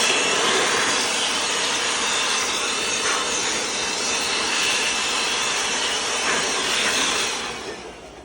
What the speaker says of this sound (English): I use a blower, dust the electrical cabinets.